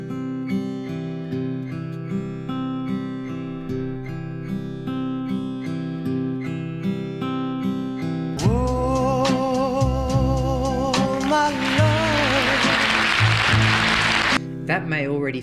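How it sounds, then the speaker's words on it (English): Fingerstyle guitar picked in a steady PIMA pattern through changing chords, clear and close, shifting partway into a fuller, brighter strummed and louder passage before ending. "I would pick through PIMA over chord changes."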